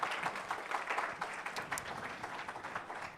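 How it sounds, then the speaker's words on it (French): Audience applause in a lecture hall for Madame Ebadi at a French talk on bio-inspiration in business, a steady patter of many hands at moderate level, with no speech over it. "on peut applaudir Madame Ebadi"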